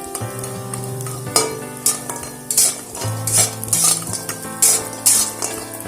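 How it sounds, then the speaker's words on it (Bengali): White oil sizzles and crackles steadily while lentil dumplings fry in a wok, with repeated stirring scrapes and clinks of a utensil against the metal. "এখানে কড়াইতে সাদা তেল দিয়ে সবার প্রথমে এখানে বড়িগুলোকে আমি দিয়ে দিচ্ছি"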